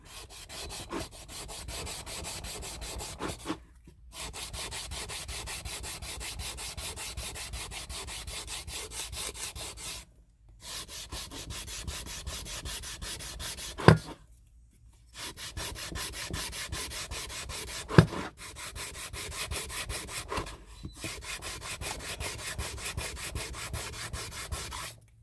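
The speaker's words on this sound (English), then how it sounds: "Now you could do this with sandpaper." A painted thrift store wood piece is sanded by hand in long, steady, raspy strokes that continue for several seconds at a time, broken by short pauses and a couple of sharp knocks.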